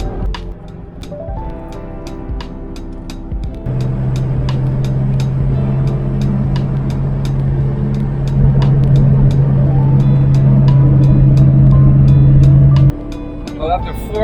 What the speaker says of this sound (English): We've been on the road for a couple of hours now, driving kind of slow, trying to conserve a bit of gas.